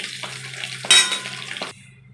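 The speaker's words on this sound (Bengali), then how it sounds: "মাছগুলো আমার লাল লাল করে ভাজা হয়ে গেছে" Katla fish frying in a pan for a doi katla curry, a steady close sizzle with scraping and stirring of the pieces, louder in the middle and stopping near the end.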